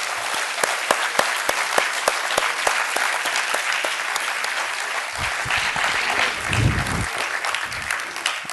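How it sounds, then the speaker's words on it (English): A large conference audience at a human spaceflight session gives a big round of applause, with loud, dense clapping and a few sharp individual claps standing out. The applause holds steady throughout and swells near the end. "we have to give a big round of applause to our astronauts there"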